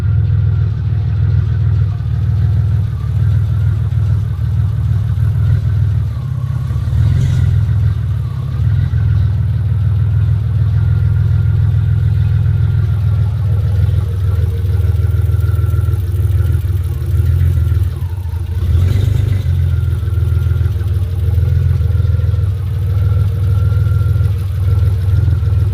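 A low-budget BMW drift car's engine running loud and close while the steering is turned to bleed the power steering, a heavy, steady low rumble with a few brief whines rising over it.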